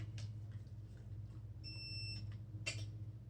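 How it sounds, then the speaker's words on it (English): A dog-training beep used as a recall cue sounds once, a steady electronic tone lasting about three quarters of a second, over a low steady background hum. "coming back to me at the sound of that beep, right?"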